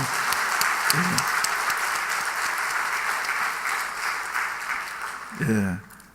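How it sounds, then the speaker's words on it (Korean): A church congregation applauds loudly and steadily during a Sunday evening worship service, a dense sustained clapping that fills the room, with a brief voice rising near the end before the sound drops away. "우리 박수 한번 크게 한번 하십시다."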